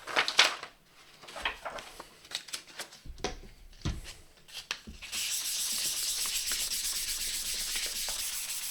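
Close-up sanding of scratches on a guitar with 800-grit abrasive: scattered scraping strokes at first, then a steady continuous hiss of abrasive rubbing that lasts to the end.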